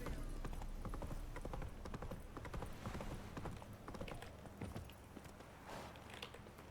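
Horse hooves clip-clop steadily at a walking pace in the Witcher 3 video game, a quiet, even rhythm of hoof strikes over a soft ambient bed, with no speech.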